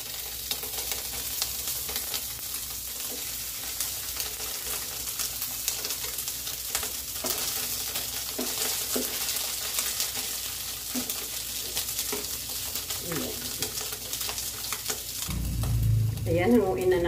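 Crab sticks fry in a pan with a steady, crackling sizzle while being stirred, with scraping strokes throughout and a louder burst of frying near the end.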